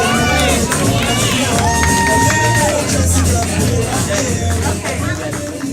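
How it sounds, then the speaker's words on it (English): A live event crowd erupts in loud cheering, shouting and excited voices, with children's shrieks rising above the hubbub and steady noise throughout. "Give them a round of applause"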